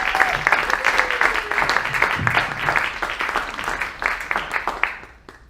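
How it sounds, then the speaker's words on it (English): At a poetry reading, an audience applauds with brisk, steady clapping from a moderately sized crowd, close and fairly loud, fading slightly near the end. "Give him a big round of applause."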